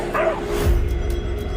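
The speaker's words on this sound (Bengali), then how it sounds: "হঠাৎ লক্ষ্য করলাম দূর থেকে কতগুলো কুকুর শব্দ করতে করতে এদিকে ছুটে আসছে।" Cartoon dogs barking in a quick yipping burst, then a lower whimpering, howling tone, from a ghost cartoon set on a road to Rangpur at night; a steady hum sits underneath.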